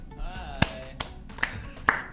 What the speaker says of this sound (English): A little applause? Is that what we're doing now?